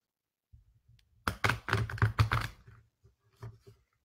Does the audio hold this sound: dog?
no